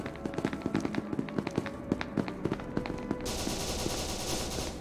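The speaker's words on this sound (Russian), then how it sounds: "Слышу выстрелы, Серега. Стрельба." Rapid bursts of automatic gunfire in the video game SCP Secret Laboratory, sharp repeated shots in uneven volleys, giving way to a denser hissing crackle toward the end.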